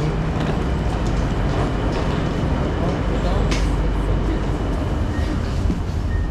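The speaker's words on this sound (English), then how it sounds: "Double decker train." A double decker train in Amsterdam gives a steady, loud broadband rumble throughout, with voices faintly mixed into the continuous noise.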